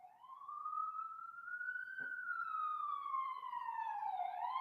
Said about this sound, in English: I get triggered by the sirens, right?